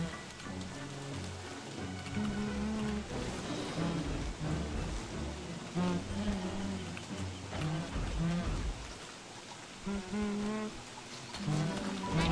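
Steady rain falls in the video game Don't Starve Together, a soft continuous patter sitting under game music and effects throughout.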